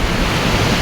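Ocean waves wash onto a seaside shore as a steady, even roar of surf, with no voices over it.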